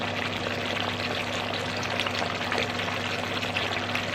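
Chicken tenders cooking whole in a pan give a loud, steady sizzle and crackle throughout, a continuous frying hiss with a low hum beneath and no talking.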